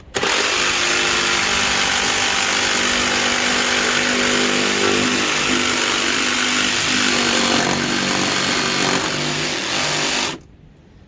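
A jigsaw with a coarse blade cutting out part of a mower bagger, a loud, close, continuous buzzing whine that holds steady for about ten seconds and then stops abruptly.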